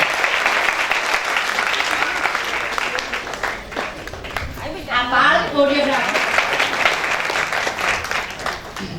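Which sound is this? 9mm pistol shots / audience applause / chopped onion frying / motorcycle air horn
audience applause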